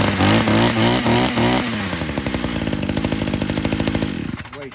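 A weed eater's small two-stroke engine, just fitted with new fuel lines, runs loud and close, racing high at first then settling into a rapid sputtering idle before cutting off.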